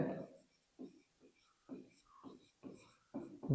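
Short bursts of pen or chalk writing scratch along in an irregular rhythm, quiet and close, between pauses.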